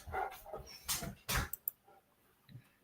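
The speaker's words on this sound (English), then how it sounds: "The dogs are gonna bark right in the middle, just right on cue." Dogs bark in several short, sharp bursts close by, followed by a couple of softer yips and whimpers, with no talk over them.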